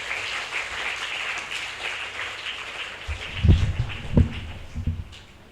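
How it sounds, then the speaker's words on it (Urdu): Applause from an audience at a school children's assembly on health, a steady mid-level clapping wash that swells into a few louder bursts near the end. "آپ کی بھرپور تالیوں میں حسان بن ارسلان."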